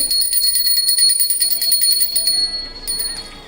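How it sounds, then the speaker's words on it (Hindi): A bright metal prayer bell rings rapidly and continuously during Hindu home worship, its shimmering tones sustained for a few seconds before fading slightly. "आप घंटी बजा दें एक बार"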